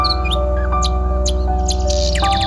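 Birds sing in forest near the Kutumsar caves, with scattered short chirps and whistled calls rising over a steady, loud low hum that runs throughout.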